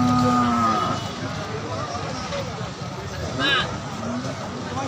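Cattle at a busy livestock market in Pati, Indonesia, give long, low moos, one at the start and another midway, over a crowd babble and nearby voices talking.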